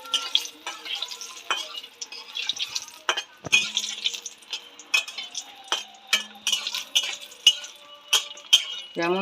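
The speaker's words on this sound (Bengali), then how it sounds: "এই যে বড়িটা ভেজে নিচ্ছি" Bori lentil dumplings frying in oil, with a soft sizzle under frequent stirring and sharp clinks of a utensil against the pan, close up and fairly quiet.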